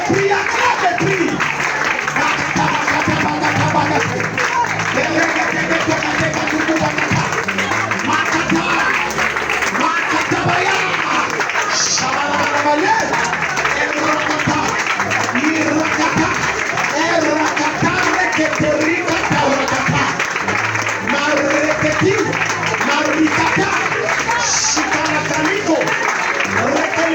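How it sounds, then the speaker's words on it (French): A congregation at a spiritual warfare prayer service claps and acclaims without pause, a loud, dense crowd roar of applause blended with many shouting voices that holds steady from start to end. "Acclame et prie, acclame et prie."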